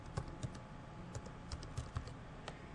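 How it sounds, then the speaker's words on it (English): Password keyed in on a computer keyboard, a quiet sequence of about eight separate key presses at an uneven typing rhythm, close and soft with no talking. "I'm going to type in Patrick N's password."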